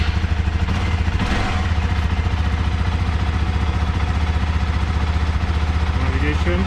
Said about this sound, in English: let's just start the bike